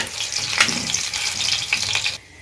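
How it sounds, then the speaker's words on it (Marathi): Garlic fries in oil over a low flame for a tempering, giving a steady close sizzle and crackle that stops abruptly just before the end. "आणि आता ही गेलेली आहे लसूण लसूण मस्त ब्राऊन झाली पाहिजे"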